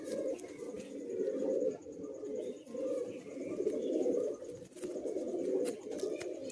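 Madrasi pigeons coo in repeated low, throaty rolling phrases, close and continuous, with faint chirps above.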